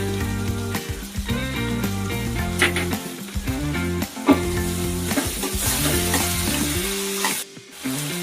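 Onions fry with a pinch of salt in a pan, giving a steady sizzle with occasional stirring that runs throughout over background music.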